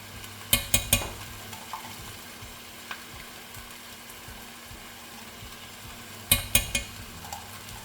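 Spoon stirring tomato concentrate into a bolognese cooking in a pan, two clusters of quick scraping clatters at the start and near the end over a soft, steady sizzle.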